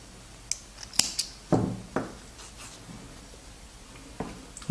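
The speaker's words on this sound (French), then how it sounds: "je coupe mon fil" Scissors snip crochet yarn, giving a few sharp, close metallic clicks and cuts spaced irregularly in an otherwise quiet room.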